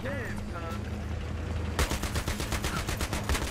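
Gunfire in the video game Battlefield 3 during an armored-unit battle, rapid machine-gun bursts crackling loudly through the latter half, with someone talking excitedly before and over the shooting.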